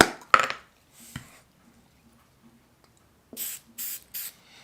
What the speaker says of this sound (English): put a little spray on that side, and that's going to make this kick a little bit quicker